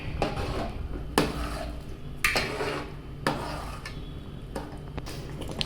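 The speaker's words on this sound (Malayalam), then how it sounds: "ഇനി ഇതെല്ലാം കൂടെ ഒന്ന് മിക്സ് ചെയ്തെടുക്കാം." A spoon stirring and mixing bansi rava upma in a pan, five or six distinct scraping clacks against the metal at roughly one-second intervals over a faint sizzle, close and fairly quiet.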